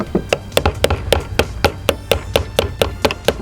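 A pry bar taps a fuel pump retaining ring on a Mazdaspeed 3 fuel tank, about fifteen light, sharp metallic knocks at a quick, fairly steady rhythm, close by and clear.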